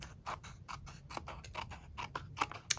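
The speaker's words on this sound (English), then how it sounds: "And then we can just trim off this excess with the scissors." Scissors snip through excess card-making paper in a quick, steady run of close, crisp cuts with no talking.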